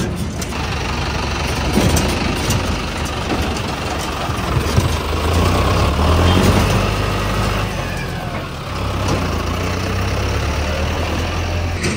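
A tractor engine runs steadily at low pitch and fairly close, with a deep heavy rumble and slight rises in power as it pulls away, outdoors on a farm with no one speaking.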